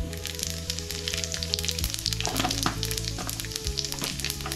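Cumin seeds sizzling in hot oil left over from frying potatoes, a loud continuous crackle with a low steady hum running underneath.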